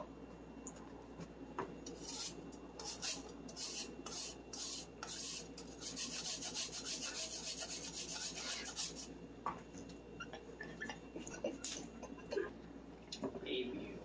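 A Microplane shaves a piece of ginger for sushi, giving a run of dense, close, repeated rasping strokes that crowd together mid-clip and thin out toward the end, with faint background talk from a person.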